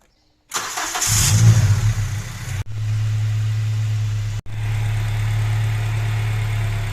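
An Acura RSX engine cranks and catches, revving loudly at first and then settling into a steady, close idle, broken by two brief cuts in the sound.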